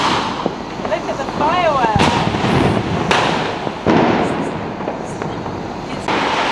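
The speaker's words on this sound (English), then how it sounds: "now apparently it's time for firecrackers" Diwali fireworks and firecrackers burst across Pune, India, in a rapid, irregular barrage of sharp bangs and cracks, some close and loud, others distant, with a whistling rocket rising between them over a constant background crackle.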